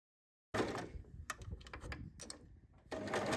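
Sewing machine stitching across the boxed corner of a large tote bag, a steady mechanical rattle with short stops and restarts, close and moderately loud.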